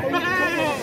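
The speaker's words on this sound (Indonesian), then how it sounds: "Iki kambing Erika apa, Pak?" A goat bleats loudly and close at a busy rural livestock market in Java, one sustained wavering call with a crowd murmuring underneath.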